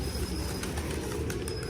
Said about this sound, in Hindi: और अब हम कबूतरों को खाना देंगे।